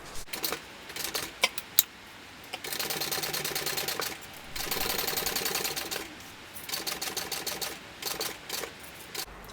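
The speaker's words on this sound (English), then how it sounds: "I'm going to start at the bottom here and I'm going to sew it with the seam allowance given in the pattern" A sewing machine stitches the bottom seam of a dual-compartment crossbody bag, running in bursts of rapid mechanical whirring separated by short pauses, with clicks and handling noise in between.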